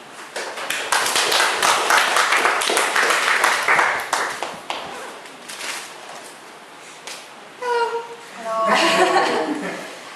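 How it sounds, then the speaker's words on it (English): Audience applause welcoming a speaker to the stage at a talk on responsible tourism, a burst of clapping over the first half that thins out, followed by brief voices and rustling near the end. "please welcome Calen with applause"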